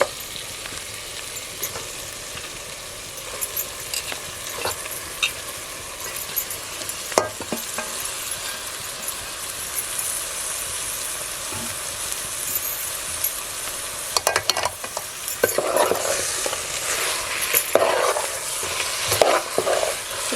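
Marinated chicken coated in masala frying and being stirred in a pan over a wood-fired village stove, a steady close sizzle with scraping stirs that grows busier and louder toward the end.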